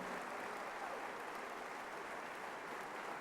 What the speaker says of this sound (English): Another round of applause for our faculty who've meant so much to us and to you.